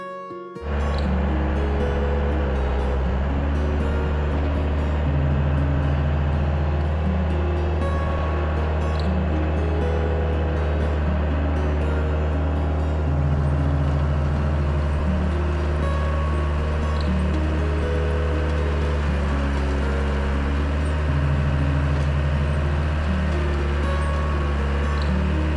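A 1992 Bobcat 853H skid steer pushes snow with a 4-way blade, its diesel engine starting up and then running loud and close for the whole stretch, a steady low drone that rises and falls in pitch as the load changes.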